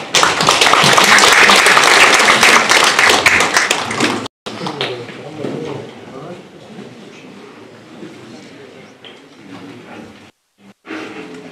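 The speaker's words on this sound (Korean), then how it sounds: "큰 박수로 신동식 회장님을 맞이해 주시기 바랍니다." An audience at a formal event claps loudly for chairman Shin Dong-sik for about four seconds. The applause then cuts out, leaving quieter room noise with a few faint sounds.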